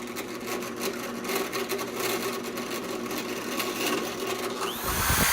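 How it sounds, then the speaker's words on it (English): A power drill bores neck-screw holes into a carved-top Floyd Rose guitar body, giving a steady buzzing whine that grinds on continuously and swells into a louder burst at the end. "Here I'm drilling the holes for the neck screws."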